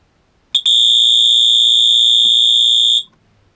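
A Wheelock MT fire alarm sounds a continuous piercing electronic tone, very loud and close, starting abruptly after a half-second of quiet and holding steady for about two and a half seconds before cutting off.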